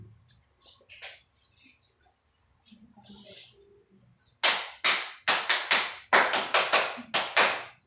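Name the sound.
group performing a cheerleading clap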